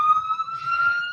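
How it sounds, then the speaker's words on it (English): A police siren wails steadily in the background, a sustained tone holding at moderate loudness from outside, with faint room noise under it. "I apologize for the sirens in the background."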